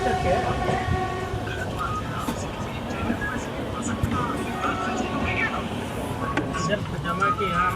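Rumbling, clattering carriage noise runs steadily throughout a passenger train bound for Sangli from Mumbai, heard from a seat inside the coach, with faint voices in the background.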